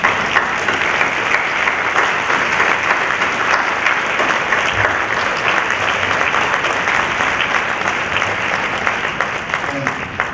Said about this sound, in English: I would like the track chairs to stand and also the rapporteurs, just so we can give them a hand of applause